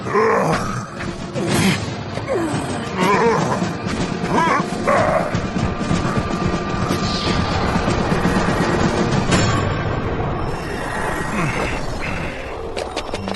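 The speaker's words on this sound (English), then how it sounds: "I thought I heard Nevitz growling" A cartoon creature growls and barks in a dense, continuous roar of rough snarls and yelps, heard amid crashing action sound effects at steady high loudness.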